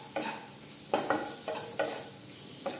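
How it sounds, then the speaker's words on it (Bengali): Chicken frying in a pan with turmeric powder and garam masala: a soft, steady sizzle broken by several short scraping stirs at irregular intervals, fairly close and without any talking. "হলুদের গুঁড়া দিয়ে হালকা করে আমি এখন ভেজে নিব"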